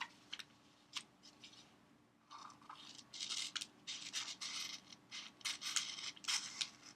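Scissors cutting through a sheet of paper along a folded crease, close and quiet, with a few isolated snips followed by a steady run of rasping cuts.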